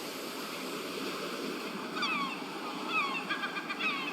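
Ocean surf washing onto a beach in the Life is Strange Remastered video game, a steady broadband wash with a few brief high calls, like gulls, over it, alone without talk.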